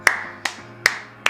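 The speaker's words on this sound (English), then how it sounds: "I just want to clap" Four sharp, evenly spaced hand claps, close and loud, each a crisp slap with a short ringing tail, roughly one every 0.4 seconds with nothing else around them.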